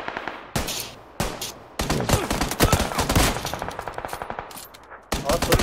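Video game gunfire in PUBG: rapid bursts of automatic shots cut off by short gaps, loud and close, with no talk over them.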